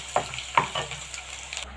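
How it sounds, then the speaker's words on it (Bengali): Sliced onions frying lightly in a pan, a soft steady sizzle broken by a few sharp scraping stirs near the start and middle, close and fairly quiet. "এখন একটু পেঁয়াজ ভেজে নেব হালকা করে।"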